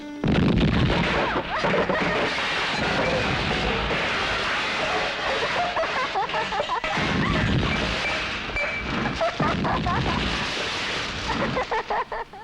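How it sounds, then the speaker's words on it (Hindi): Explosives blast rock on a hillside quarry, producing a loud, sustained rumbling crash with scattered cracks and clattering debris that roll on for several seconds. "वहाँ पे बारूद लगा के चट्टाने तोड़ते हैं"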